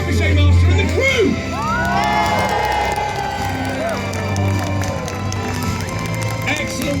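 A crowd at Warwick Castle cheers and shouts for the trebuchet master and crew, a steady wash of voices and whoops from an open-air audience, with a voice speaking over it.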